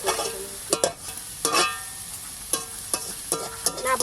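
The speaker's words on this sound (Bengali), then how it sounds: "লবণ, হলুদ, হয়ে যাবে। বেশি ভাজবো না" Garden greens frying with salt and turmeric in a pan, a steady close sizzle broken by several sharp stirring scrapes at irregular intervals, no talking.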